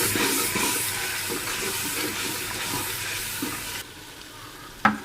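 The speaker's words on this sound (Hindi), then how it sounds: "अब इसको खूब भूनेंगे हम।" Masala with cumin and garam masala being stir-fried in a pan for aloo chicken, a loud continuous close sizzle with stirring scrapes that drops off near the end, then one sharp clank.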